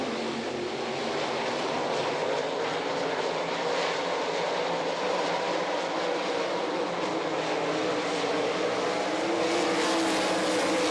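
Sprint cars roaring around a dirt oval during a World of Outlaws B-Main at Rossburg, Ohio, a steady loud engine drone from the pack that holds through the whole stretch with no talk.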